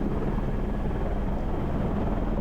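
A Hawaii tour helicopter drones loudly and steadily from inside the cabin, a dense continuous rotor and engine roar with no breaks.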